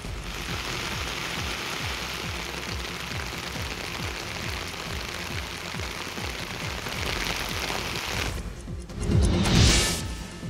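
Heavy rain pours in a steady, dense hiss close by, a continuous wash of sound that swells briefly louder near the end, with no voices.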